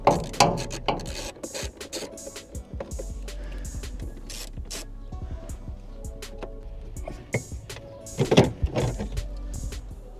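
Hand tools working on trim bolts of a Mercedes 190E, close irregular ratcheting clicks, scrapes and metallic knocks in bursts with a louder clatter late on, no talking.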